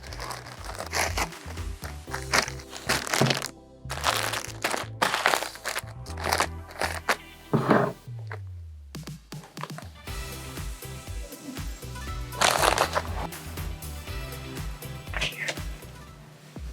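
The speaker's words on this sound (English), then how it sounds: "you're going to fold the product nice and neat, so then that way it can get placed inside the poly bag." Clothing is folded and slipped into a poly plastic bag, bringing loud bursts of crinkling and rustling plastic with handling thumps, interleaved with a person talking.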